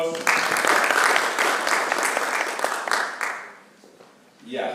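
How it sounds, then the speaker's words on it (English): An audience at an official flag-off ceremony gives sustained applause, dense and fairly loud for several seconds, then fades out before a brief burst of noise at the end. "Another round of applause."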